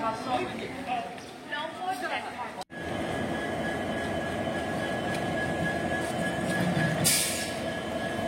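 Train 15614 Lachit Express at Guwahati station makes a steady, loud rolling rumble after a sudden cut. A brief wheel squeal rises near the end, and voices murmur in the background.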